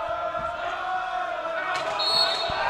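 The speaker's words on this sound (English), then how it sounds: "Big Irish chant coming from the crowd." Fans of Ireland chanting in the stands during a basketball game against Israel, a steady tonal crowd chant held throughout with basketball bounces and sneaker squeaks on the court nearby.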